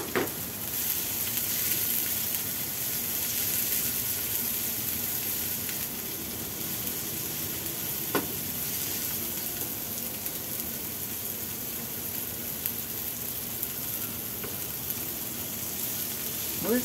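Garlic frying in a pan alongside softening onion for a palm heart moqueca, a soft, continuous hiss of sizzling oil with a few faint clicks and light stirring sounds, fairly quiet.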